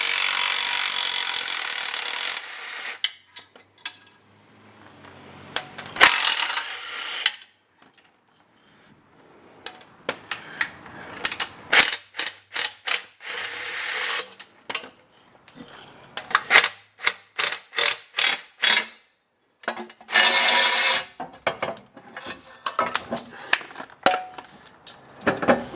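Hand tools work on a Porsche Cayman exhaust header during engine removal: bursts of rasping, scraping and rapid ratcheting strokes, irregular and close, separated by short silent gaps.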